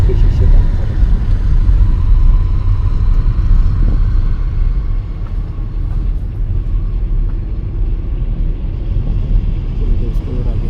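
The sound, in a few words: inside a car driving through forest with windows closed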